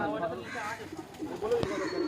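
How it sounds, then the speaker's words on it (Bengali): A male Face of Beauty pigeon in a loft gives soft, low cooing phrases at close range, partly under people talking nearby. "এই হচ্ছে ফেস অফ বিউটি পায়রা"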